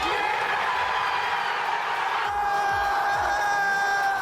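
Football crowd roaring after a last-minute extra-time winner in a do-or-die match, a loud continuous wall of cheering and shouting with tonal whistles or horns, distant and blended, with no individual talk.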